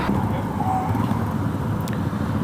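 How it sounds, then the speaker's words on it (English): Steady low rumble of passing road traffic in Adelaide, a continuous wash of engine and tire noise at moderate distance. "I apologise for all the traffic noise in the background."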